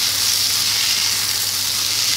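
Tofu stir-frying in a hot pan gives a steady, close, loud sizzle that runs unbroken from start to end with no voices.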